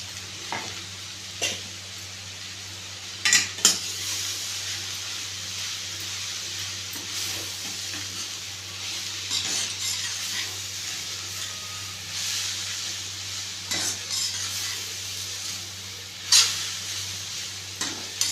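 A spatula stirs cabbage poriyal mixed with roasted gram powder in a pan, soft sizzling and scraping continue steadily with a few sharper knocks against the pan along the way.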